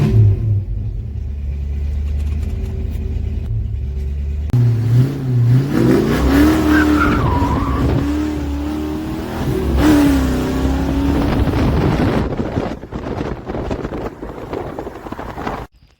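A 1984 Ford Mustang fitted with a new Holley 600 cfm Street Warrior carburetor pulls away and accelerates, its engine rumbling and revving steadily with wind buffeting the microphone, and a brief tire squeal partway through.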